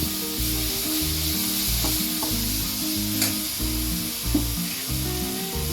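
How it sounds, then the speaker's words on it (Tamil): Tomatoes sauté with salt in a hot pan for a Tamil sardine curry, making a constant close sizzle with soft stirring scrapes throughout and no talking. "தக்காளி வந்து அப்போ தான் சீக்கிரம் வதங்கும்"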